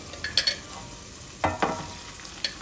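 Sinangag garlic rice with atsuete oil is stir-fried in the pan just used for tapa, with quick scraping and tossing strokes over a soft sizzle, in a few close bursts.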